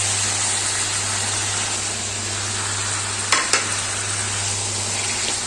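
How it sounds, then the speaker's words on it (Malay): Carrot and broccoli stir-frying in a hot pan for nasi goreng, a steady broadband sizzle with a low constant hum underneath and two quick clinks of a utensil near the end. "kemudian kita masukkan sayur. Saya gunakan carrot dan brocolli."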